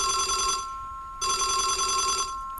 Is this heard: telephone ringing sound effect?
yes